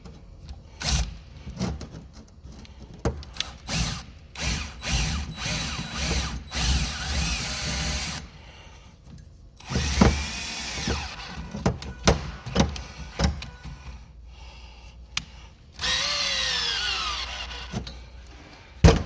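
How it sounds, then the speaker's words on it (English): A cordless battery drill whirs in repeated bursts, straining and ratcheting as it drives a lag bolt into a broken shovel handle, with brief pauses between pulls of the trigger. "That battery drill sucks. You should get a corded drill."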